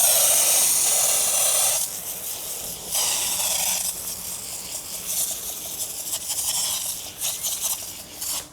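Hand-pumped foam sprayer applying foaming pre-wash, a steady loud hiss of spray in long bursts with short pauses between them, close by and with no talking.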